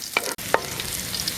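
Garlic for chicken pochero fries in hot oil, giving a soft close sizzle with a couple of brief stirring clicks, short and without talk.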